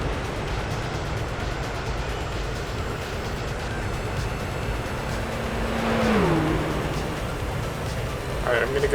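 Race car engine in Gran Turismo 4 on a speedway, a steady droning hum under commentary with a rising rev swell around the middle and another push near the end.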